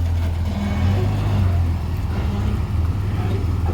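A 4x4 crawls over a rocky track in Toolangi, its engine a steady, loud low rumble with slight revving swells and faint bumps, with no talk over it.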